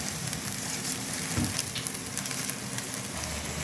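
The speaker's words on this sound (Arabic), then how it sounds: "انا كده حمرت اهو البصله بالمكعب بالبهارات، هنزل عليهم بالرز." Onions fry in a pan with a stock cube and spices, a steady close sizzle and crackle with stirring scrapes and a brief louder hiss as rice goes in.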